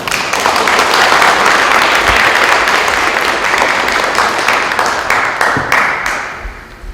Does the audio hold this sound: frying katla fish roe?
no